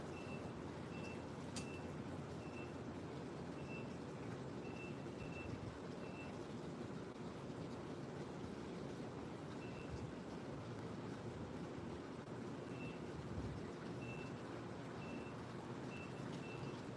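Truck reversing beeps, faint and steady, repeating at an even pace over a continuous low traffic-like rumble, with a short pause partway through before the beeping resumes.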